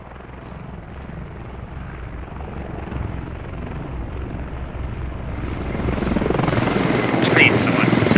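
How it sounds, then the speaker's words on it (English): A helicopter in a military combat video game thrums steadily and grows louder as it approaches, its rotor beat building over the last few seconds. "Chopper incoming to the north."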